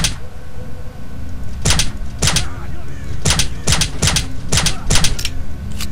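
Gunfire in STALKER: Shadow of Chernobyl, a series of sharp, loud single shots in irregular bursts, with a speaker talking over them.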